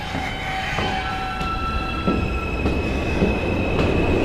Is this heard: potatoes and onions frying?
no